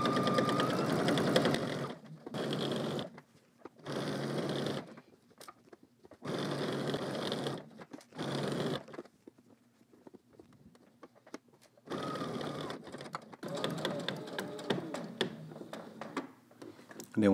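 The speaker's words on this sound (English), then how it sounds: "So let's head to the machine and stitch that down." A sewing machine stitches fabric in bursts of steady, close mechanical whirring, stopping and starting several times with short quiet pauses between runs.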